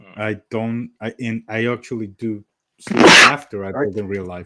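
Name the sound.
sneeze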